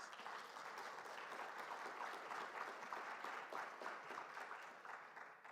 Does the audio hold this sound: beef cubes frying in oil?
no